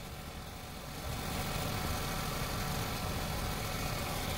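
A Seat Ibiza 1.2 TSI engine idles steadily with a low, even hum and faint vibration, growing slightly louder after a second and running on without any talking.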